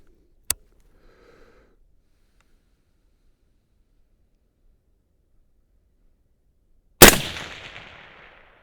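A Haenel CR6.5 long-range rifle fires two separate shots, a faint sharp crack early on, then a loud blast several seconds later with a decaying rumbling tail, silence between.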